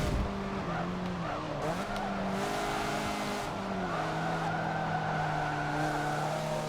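Mazda MX-5 Cup spec race car engine in Forza Motorsport 7, droning steadily throughout with rising and falling pitch through gear changes, plus brief tire squeal around a turn.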